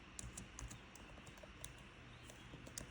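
Someone types one-handed on a computer keyboard, producing quiet, uneven key clicks scattered across a few seconds in a hushed room.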